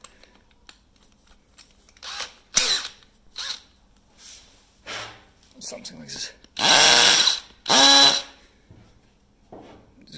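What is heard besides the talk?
hammer drill drilling concrete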